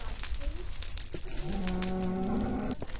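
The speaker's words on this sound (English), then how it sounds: "Oh, it's just a cow." A cow in the Minecraft video game moos once in a long, drawn-out call that begins around the middle and runs to the end, heard clearly over a steady background hum.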